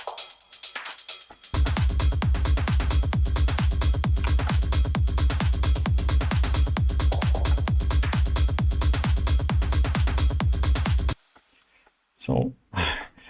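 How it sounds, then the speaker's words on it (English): A large percussion section hits its climax in an electronic remix, with dense, driving hits repeating loud and steady for about ten seconds before cutting off sharply, then a few brief trailing sounds. "So next we have a huge group of percussions"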